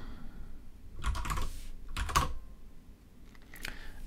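Computer keyboard typing comes in two or three short, close bursts of rapid keystrokes, separated by quiet pauses, with no talking.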